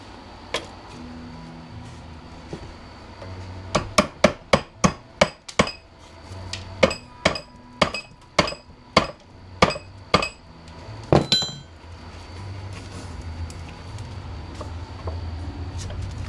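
A series of sharp metallic strikes from a hammer made of a scrap metal hunk, about a dozen evenly paced blows in a burst, then quiet room tone.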